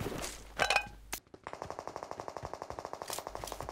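Gunfire rattles in PUBG Mobile: a few scattered shots and a sharp crack, then a rapid, steady automatic burst of evenly spaced rounds, loud and close.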